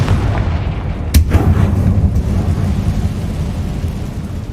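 A Confringo fire spell bursts with a single sharp blast in Hogwarts Legacy, followed by a rumbling, booming tail over a steady low roar of background game ambience.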